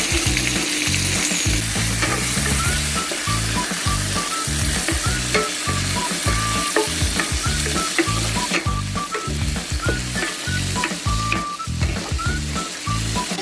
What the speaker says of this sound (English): Once you add all the vegetables, fry them all good so you can eat them very well.